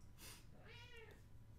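A needy pet cat sitting right beside the listener lets out a single close, drawn-out meow, alone with no talk.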